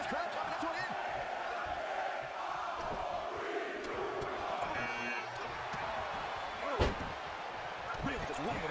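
An arena crowd in the WWE 2K22 wrestling video game roars continuously under a commentator's voice, with a sharp impact slam near the end cutting through the steady crowd noise.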